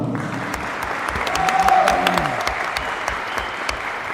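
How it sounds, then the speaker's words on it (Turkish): Audience applause at a futsal league award ceremony, honoring the national futsal team: dense, steady clapping from a crowd in a hall, swelling slightly in the middle and holding for about four seconds. "Bize bu mutluluğu yaşatan milli sporcularımıza, futsal milli takımımıza bir alkış yapalım mı?"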